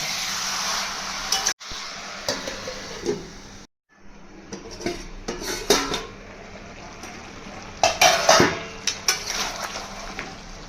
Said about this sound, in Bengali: একটু কষবো, আবার ঢাকা দেবো, আবার ঢাকা খুলে আবার কষবো